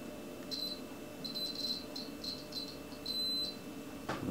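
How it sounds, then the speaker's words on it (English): A multimeter set to continuity gives short high beeps as probes are tapped on a Sega Saturn BA6798S CD deck board, several brief bursts and one longer tone over faint background hiss. "Switch your multimeter over to continuity."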